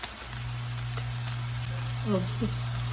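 Food browns for stuffed shells in a hot pan, a continuous close sizzle with a low steady hum beneath it and a brief faint voice near the end.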